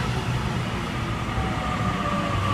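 Sydney Trains A-set electric train arriving at Canley Vale station, a continuous rumbling roll with a faint high whine over it, steady and fairly close, with no voices.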